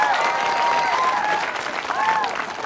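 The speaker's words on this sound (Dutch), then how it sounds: "Applaus" A television studio audience claps vigorously to welcome a guest arriving on a huge motorcycle, a loud sustained roar of hands with voices and whoops rising above it.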